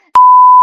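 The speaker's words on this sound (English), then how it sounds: "I'll beep it out." A single loud, steady censor beep over a curse word on a podcast, a clean pure tone lasting about half a second.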